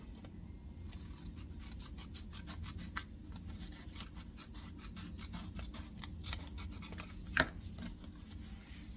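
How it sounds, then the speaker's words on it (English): Scissors snipping paper while trimming the side of a textured junk journal page: a quiet, rapid series of crisp cuts in a calm room, with one brief louder snip near the end. "I want to cut the side of this off a little."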